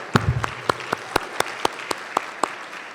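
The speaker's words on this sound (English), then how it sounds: "please give yourselves a round of applause for being here" Sparse, spaced-out handclaps at a gala, a dozen or so distinct sharp claps in a slow, uneven rhythm rather than a full ovation, with a brief murmur of voices at the start.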